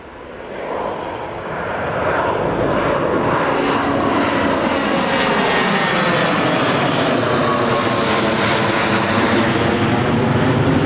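A Global business jet departs Newcastle Airport, its engine roar building over the first two seconds and then holding as a loud, steady, broadband rumble with a slowly shifting tone as it passes close by.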